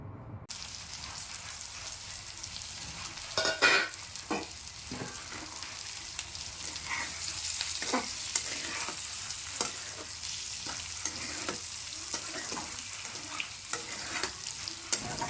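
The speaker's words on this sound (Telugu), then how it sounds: "మనము ఉడకపెట్టుకొని కట్ చేసుకున్న ఎగ్స్ని వేసి కలపెట్టుకోవాలి" Boiled, cut eggs sizzle in hot oil in a pan, a soft continuous crackle broken by repeated scraping strokes as the pieces are stirred.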